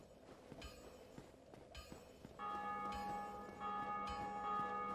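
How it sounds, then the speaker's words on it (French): Bell ringing in the Dark Souls video game, with repeated metallic strikes and sustained ringing tones layered over background game ambience, growing louder and fuller in the second half. "Ils arrêtent pas de faire sonner la cloche."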